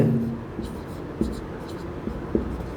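A pen scratches across paper in a few short strokes while a math lesson on basic geometry and circles is being written out. Someone speaks softly over the writing.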